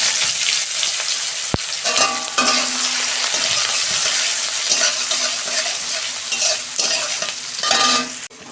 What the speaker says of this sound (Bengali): তেল গরম হয়ে গেছে, গোটা জিরে দিচ্ছি অল্প, অল্প হিং দিচ্ছি, পেঁয়াজটা দিয়ে দিচ্ছি।